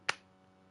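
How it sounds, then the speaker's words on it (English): A single sharp hand clap, close and crisp, decays quickly into a quiet room hum. "No, that was a bad clap."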